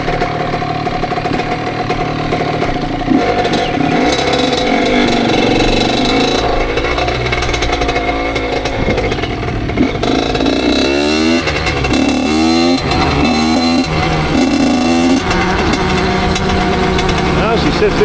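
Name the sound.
Honda CR85 dirt bike engine revving during break-in ride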